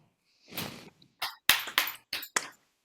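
Sharp, dry hand claps during a ceremonial prayer ritual with water, several quick close claps in an irregular sequence after a soft rustle, in a quiet room.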